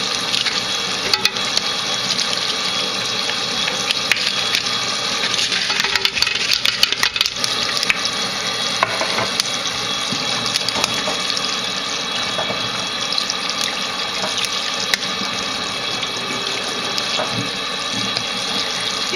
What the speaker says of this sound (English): You got to keep the cold water on until they're completely cold.